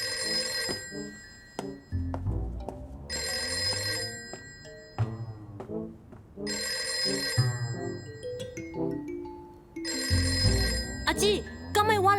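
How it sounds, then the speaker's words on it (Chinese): A telephone bell rings indoors in repeated bursts of a couple of seconds each, separated by short pauses, loud and close. "敢会我来接电话？"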